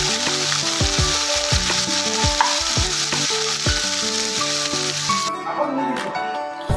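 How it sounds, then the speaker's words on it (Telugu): Ginger-garlic paste with coriander and kasuri methi sizzles and fries in a pan for a potato curry, a steady loud crackle close up, with repeated scraping stirs of a spoon against the pan. "అల్లం, వెల్లుల్లిపాయ పేస్ట్ వేసుకోవాలి. వేసుకొని బాగా కలపాలి. పచ్చివాసన పోయేంత వరకు వేయించుకోవాలి"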